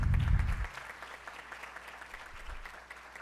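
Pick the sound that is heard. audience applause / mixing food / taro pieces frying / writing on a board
audience applause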